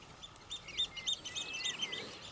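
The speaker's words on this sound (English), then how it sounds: "Birds are singing again." Small birds chirp and trill in a lively morning chorus outdoors in the Scottish countryside, several bright calls overlapping at moderate distance with no talking.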